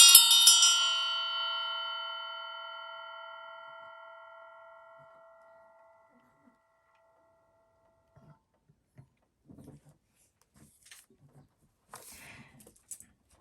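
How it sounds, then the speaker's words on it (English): A single bell is struck once, ringing out bright and clear before fading slowly over several seconds, followed by near silence with a few soft taps. "I'm going to go ahead and ring the bell"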